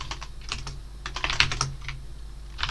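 Quick bursts of key presses on a computer keyboard, close and crisp, tapping in uneven clusters with brief pauses while a C program is entered, with no talking.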